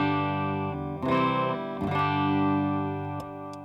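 A clean electric guitar through a G3 Atom plays sustained chords, each strum ringing out with bright harmonics, with a few new strums layered over the ringing notes.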